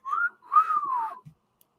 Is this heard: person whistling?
yes